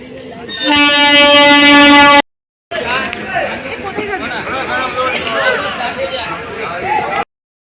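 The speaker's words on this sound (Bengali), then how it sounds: "আমাদের ট্রেন আসছে" A train horn blares loudly for about a second and a half as a train approaches, then cuts off; after a short gap, a crowd chatters steadily over station bustle.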